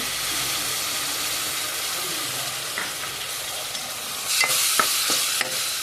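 Continuous hissing sizzle of spices tempering in a hot pan for a spicy mixed-vegetable sambar, with a few sharp spatters and clinks of stirring near the end.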